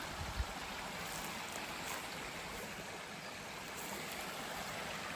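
A woodland stream flows steadily with a broad, continuous rushing wash of water, fairly close and alone with no voices.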